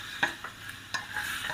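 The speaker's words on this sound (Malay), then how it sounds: "kita kacau hingga kering ya" Chicken is stirred in a dry wok without oil, a spatula scraping the pan in several distinct strokes over a soft, steady sizzle, close and moderately quiet.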